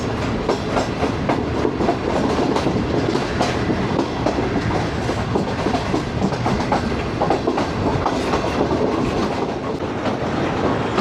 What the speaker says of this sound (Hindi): ये 3 लाइंस पैरेलल जा रही हैं और बड़ा अच्छा कर्व भी ले रही है इस वक्त शालीमार एक्सप्रेस